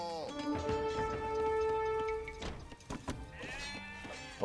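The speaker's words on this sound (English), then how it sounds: "they're actually chasing after the sheep" Sheep in the video game Age of Empires 2 bleat in long, wavering calls, one drawn-out bleat followed by further shorter ones, fairly quiet and clear with little else around them.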